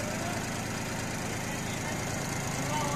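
A 1998 Tafe 30 DI tractor, registered in UP44 and in full original condition, idles with a steady low diesel chug and mechanical knock, close and continuous, with faint voices in the background.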